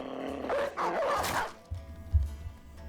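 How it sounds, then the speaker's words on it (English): A war dog barks in the medieval tactics game Battle Brothers, with a few short yips and barks up close, followed by low thuds and game clatter. "I'm gonna drop a dog"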